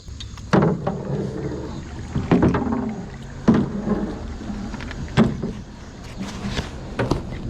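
A paddle works a jon boat through water near a bridge, producing close, uneven splashes and hollow knocks against the hull every second or two over a steady outdoor background.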